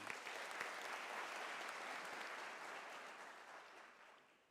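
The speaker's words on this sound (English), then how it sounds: "Ladies and gentlemen, a warm round of applause to Professor Radingwana." Steady, fairly distant applause from a large audience at a university graduation ceremony in South Africa, an even dense patter that holds for several seconds and fades slightly at the end.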